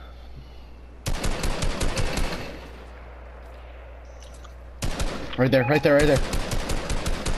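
Bursts of rapid gunfire in the Fortnite battle royale game crackle over a steady background, loud at first and returning later, with players talking over the shots.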